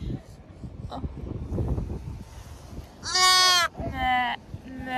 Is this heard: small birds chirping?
no